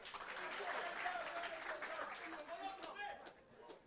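An audience at a philosophy café gathering claps in a soft, steady round of applause, with a voice speaking over it and the clapping thinning toward the end.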